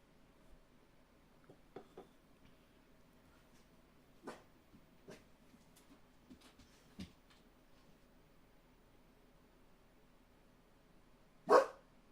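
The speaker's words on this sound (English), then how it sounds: "What are you barking at, buddy?" A few scattered sharp barks from a dog somewhere nearby, with quiet pauses in between and one louder, closer bark near the end.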